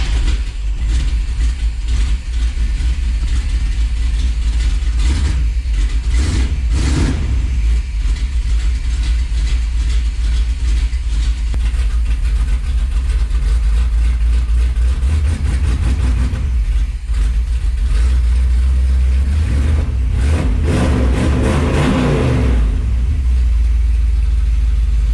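A small-block Chevrolet 400 V8 with EFI rumbles steadily at 750 rpm idle for the whole stretch, with a few revving swells and mechanical clatter, close up and loud.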